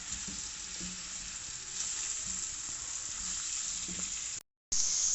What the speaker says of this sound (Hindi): 3 से 4 मिनट के लिए हम पोटैटोज़ को फ्राई करेंगे।